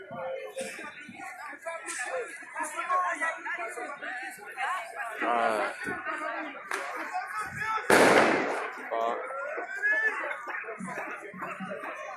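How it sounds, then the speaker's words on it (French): Small firecrackers pop at a Paris street protest amid tear gas and smoke, sharp bursts cracking out now and then over a busy crowd, with people talking and laughing close by throughout. "Quelques petits pétards."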